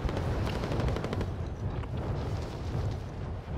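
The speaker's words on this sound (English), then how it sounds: "Somebody's on the hill shooting at me." Steady gunfire in Warzone from a shooter on a hillside, dense and continuous bursts at moderate distance with no talk over it.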